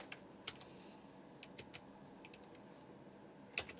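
Soft, sparse clicks of a computer keyboard tap out in an irregular rhythm, quiet and close against a faint background hiss, with a sharper cluster of keystrokes near the end.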